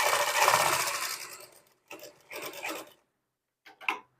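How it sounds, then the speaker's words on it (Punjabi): A sewing machine stitches an Afghani salwar in short runs: one long burst of motor whir, then two shorter bursts and a brief final spurt, close and fairly loud with no talking. "ਹੁਣ ਆਪਾਂ ਇੱਥੇ ਤੱਕ ਲਿਆ ਕੇ ਆਪਣੀ ਜਿਹੜੀ ਸਿਲਾਈ ਹੈ ਉਹ ਖਤਮ ਕਰ ਦੇਣੀ ਹੈ"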